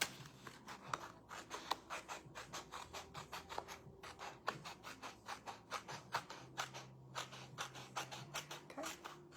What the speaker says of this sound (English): So we're just gonna snip this all off.